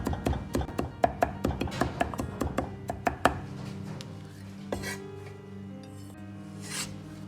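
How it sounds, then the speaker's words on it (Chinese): Two garlic cloves are smashed and then minced with a kitchen knife, a quick run of sharp, rhythmic chops on a cutting board that then slows into a few scattered, softer knocks and scrapes, with no talking. "大蒜子2颗，先拍破，然后再剁成蒜泥"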